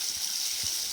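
Water flowing lightly over the top of a small waterfall on the La Cloche Silhouette Trail, a steady, even rushing hiss with no other sounds.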